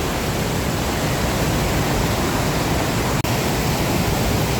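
At Haew Suwat waterfall in Khao Yai National Park, falling water gives a dense, continuous roar that stays steady and loud, broken once by a brief sharp click.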